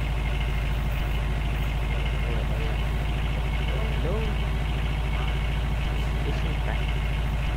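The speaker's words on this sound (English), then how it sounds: "This car is really loud." A loud, steady engine drone from a car being driven in Unturned, on an arid semi map, humming continuously with a low rumble while players talk over it.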